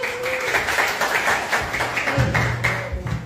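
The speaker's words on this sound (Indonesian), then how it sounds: "Ayo, tepuk tangan dong ya ekonomi." New university students applauding at a campus event, a steady wash of many hands clapping together, moderately loud and sustained for the whole stretch, with a tonal hum and murmur beneath.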